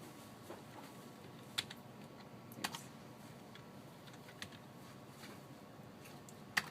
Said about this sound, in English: I need to type an @ sign.